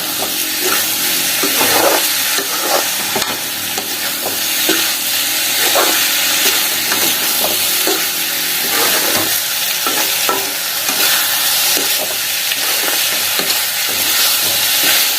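Prawns sautéing in a pan for a prawn gravy, a loud, steady sizzle that fills the whole stretch, broken by frequent scraping and tapping of a stirring spoon.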